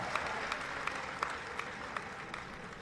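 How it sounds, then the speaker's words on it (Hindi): Audience applause at a political gathering in Gorakhpur addressed by the Uttar Pradesh chief minister, a steady wash of clapping with a few sharper claps standing out, fairly distant and even throughout. "एक जोरदार ताली बजा दीजिए"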